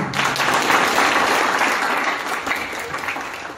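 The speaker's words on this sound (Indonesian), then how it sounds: "tepuk tangan bagi dia" A church congregation at a Sunday service applauds, a thick wash of many hands clapping that swells early, stays strong, then thins slightly toward the end.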